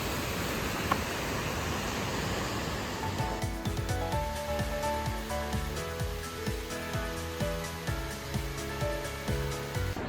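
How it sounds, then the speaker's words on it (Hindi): A waterfall on the mountain trail to Pindari Glacier roars as a steady, broad rush of falling water, close and continuous, with faint other sounds layered over the torrent in the second half. "आप देख सकते हैं यहाँ पर एक वाटरफॉल है"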